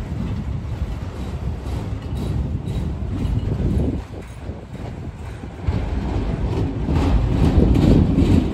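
A freight train rumbles and clatters steadily. The low roar dips briefly, then builds again as the cars get moving. No one speaks.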